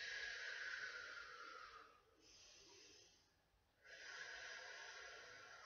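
Steady breathing during a yoga session, a soft broad hiss that holds for about two seconds, dips, then returns, close and fairly quiet with no talking.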